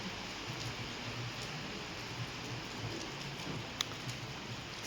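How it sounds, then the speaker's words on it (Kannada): Steady rain pours down in a dense, even wash of noise with scattered drips and taps, continuous throughout with no voices. "ಇವತ್ತು ಸಿಕ್ಕಾಪಟ್ಟೆ ಮಳೆ ಬರ್ತಾ ಇದೆ"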